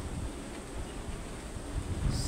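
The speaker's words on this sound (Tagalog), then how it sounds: "Sobrang lakas ng hangin, guys." Strong wind buffets the microphone in a continuous low rumble at the Pililla windmills in Tanay, Rizal, Philippines, with gusts rising slightly toward the end.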